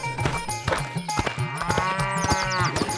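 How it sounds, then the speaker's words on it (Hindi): A water buffalo moos in repeated drawn-out low calls, loud and near, with music and other tonal sounds layered underneath. "भैंस को देखकर गेंदा सेठ की पत्नी बोली, अरे ये तो रोंदू की भैंस राम प्यारी है।"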